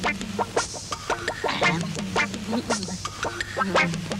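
Chickens clucking in a busy scene, repeated short harmonic calls with bursts of higher squawks over a steady background hum, close and fairly loud.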